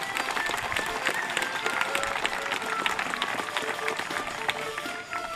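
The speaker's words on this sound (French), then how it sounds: "vous pouvez les applaudir" A crowd claps steadily for a red-and-black rugby side from Saint-Jean-de-Luz at an outdoor match, with dense sustained applause and faint voices mixed into the crowd noise.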